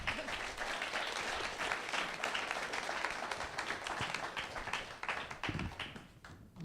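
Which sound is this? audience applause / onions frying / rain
audience applause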